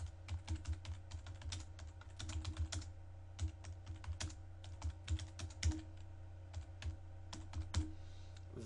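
Typing on a computer keyboard, a steady near stream of light key clicks with short pauses, quiet and with no talk.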